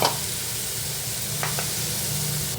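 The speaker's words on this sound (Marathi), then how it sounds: "आता याच्यामध्ये आपण स्वच्छ धुवून घेतलेला दोडका घालूया" Ridge gourd going into a hot pan of dal base and being sautéed gives a steady sizzle throughout, with a couple of brief soft scrapes midway and no talking.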